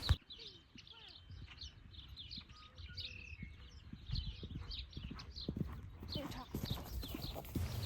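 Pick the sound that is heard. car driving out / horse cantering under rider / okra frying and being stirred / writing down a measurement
horse cantering under rider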